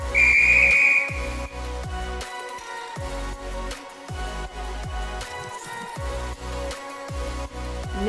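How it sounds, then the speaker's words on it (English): In a train game, a guard's single shrill whistle blast sounds for about a second at the start, signalling the doors to shut, followed by a rhythmic mechanical clatter with repeated thumps. "I can blow my whistle and shut all the doors."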